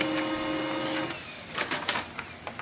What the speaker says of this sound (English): You can click on the print test page.